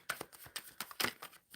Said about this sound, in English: So I'm shuffling for Simran